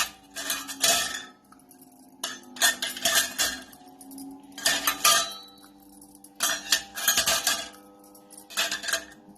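Four small metal bowls clatter and clink against each other and a hard surface in repeated bursts with short pauses, as they are handled and greased with ghee for rice kheer, close and fairly loud.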